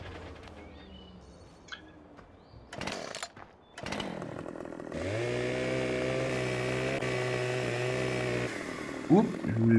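A chainsaw in Farming Simulator 15 cuts wood, starting with brief revs and clunks and then settling into a steady, loud buzzing drone that runs for several seconds before a final rev.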